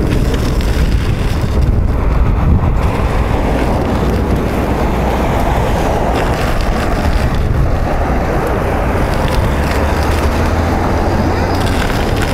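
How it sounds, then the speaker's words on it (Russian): Strong crosswind buffets the microphone while a Merida Silex gravel bike is ridden, giving a loud, continuous low roar with gusty swells throughout. "Неприятненький боковой ветерок тут есть."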